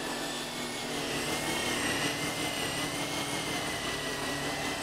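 A remote-controlled drone from Call of Duty Warzone flies close by, a steady buzzing, whirring hum that holds at a constant loudness for the whole stretch, with no voices over it.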